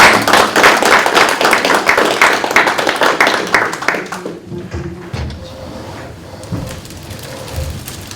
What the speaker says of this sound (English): Ladies, I'll give you a round of applause.